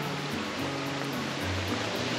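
A mountain stream running low over rocks and fallen stones along the Camino del Norte between Mondoñedo and Abadín gives a steady, close rushing wash of water with no pauses.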